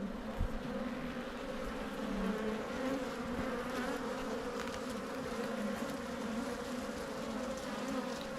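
Honey bees fly agitated around an opened hive, making a dense, steady buzzing drone close by with a few nearer passes and no voices.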